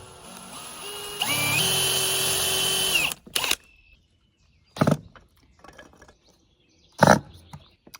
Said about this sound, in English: I'm just going to carefully drill pilot holes.